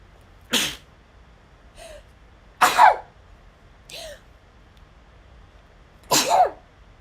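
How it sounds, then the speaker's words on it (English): Three sharp sneezes come close to the microphone, spaced a few seconds apart, with a couple of softer breathy huffs and throat sounds between them in an otherwise quiet room. "I gotta sneeze."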